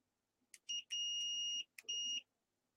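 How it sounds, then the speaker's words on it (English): A few quick electronic chirps from a Fluke multimeter's continuity test, then a long steady high-pitched beep and one shorter beep, clear and close in a quiet room. "can you hear my fluke continuity beep?"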